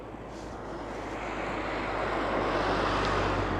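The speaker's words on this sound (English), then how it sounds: "we've got a load of bikes coming past us now" A group of bikes passes along a road in Lanzarote, a broad rushing roar that swells gradually and stays steady, with no talk.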